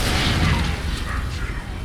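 An Incendiary Flow fire spell is cast in Skyrim, producing a loud, close burst of roaring flame that rumbles and whooshes for under two seconds before easing off.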